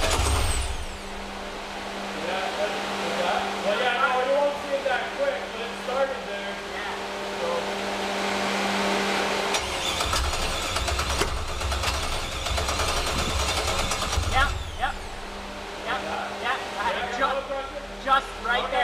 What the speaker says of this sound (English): I think if I jump these two terminals here, I can get the crank.